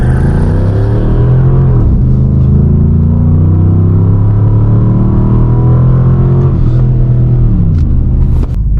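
A Dodge Charger R/T AWD launches hard from 0 to 60 with traction control fully off. The engine roars loud and close, rising in pitch, and drops at two gear shifts.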